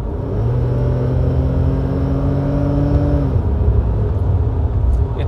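A BMW E28/E32/E34 with a ZF 4HP22 automatic gearbox at highway speed around 85, engine tone climbing steadily in a loud sustained drone, then dropping abruptly as the transmission shifts, with road rumble continuing underneath.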